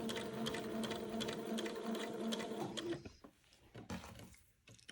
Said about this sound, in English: So I'm just sewing along the edge of the armhole